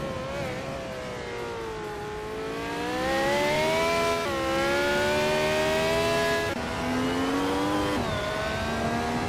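1967 Formula One cars, a Lotus 49 among them, race around the short Nürburgring GT layout in a racing game, engines howling and rising and falling in pitch as they accelerate and shift, loud and continuous.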